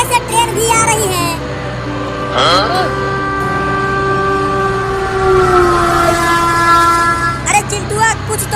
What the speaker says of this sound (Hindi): ये टेम्पो तो ट्रेन की लाइन पर ही चलने लगा और आगे से ट्रेन भी आ रही है।